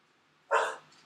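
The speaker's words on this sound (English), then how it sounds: "apologize about the dog again." A single short dog bark from a little distance, sharp and moderately loud over a quiet background.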